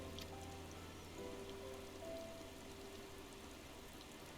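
Rain falling in Final Fantasy 14, a soft steady patter and hiss sitting low in the mix alongside faint sustained musical tones, no speech.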